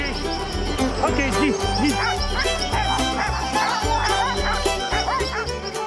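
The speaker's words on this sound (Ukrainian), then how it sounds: "Запряжні собаки швидкі і сильні." Sled dogs in the Arctic bark and yip repeatedly, loud and close, under a steady narrating voice.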